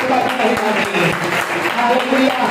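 Church congregation clapping hands during a sermon, a dense, brisk round of applause heard up close with a preacher's voice running over it.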